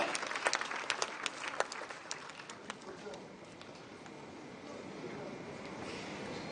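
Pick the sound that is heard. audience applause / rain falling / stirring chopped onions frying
audience applause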